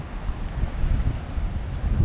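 Strong wind buffets the microphone at a coastal lookout above the sea, a steady loud low roar with no pauses.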